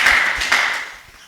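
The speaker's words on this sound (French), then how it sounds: "Round of applause for Jesus Christ." Congregation applause at a church sermon, a short burst of clapping that swells twice and then trails off, fairly loud and with no speech over it.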